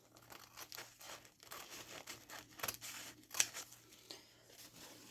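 Scissors cutting through layered paper napkins, crisp snips and crinkles close by and fairly quiet, with brief pauses between cuts.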